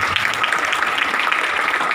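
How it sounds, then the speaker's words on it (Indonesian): A church congregation at a revival service breaks into brief, dense applause, many hands clapping loudly and steadily throughout. "Kasih tepuk tangan untuk Tuhan Yesus"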